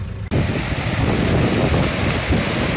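Water pours steadily at a waterfall in Manavgat, Turkey, a dense, continuous roar that starts abruptly after a brief quiet moment and holds loud and close throughout.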